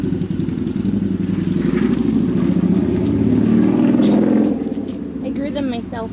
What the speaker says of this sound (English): That guy's motorcycle is loud.